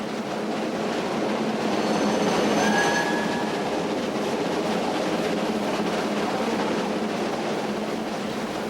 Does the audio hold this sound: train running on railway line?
yes